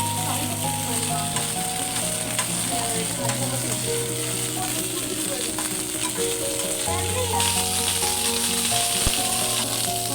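Brinjal pieces fry in oil until brown, giving a steady, dense sizzle that runs throughout, with occasional light stirring scrapes and faint kitchen tones underneath.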